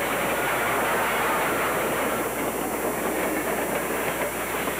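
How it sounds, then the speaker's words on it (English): An Illinois Central 2-8-0 steam locomotive hauls a local train, its wheels and cars making a loud, steady rumbling roll with rhythmic clatter and no voices. "Here's a 280 with a local train."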